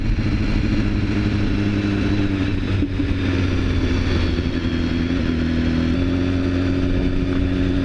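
A 2015 BMW S1000RR motorcycle engine on a test ride, a loud, steady mid-range drone with smooth throttle changes and a brief dip partway through, close and continuous with wind rush.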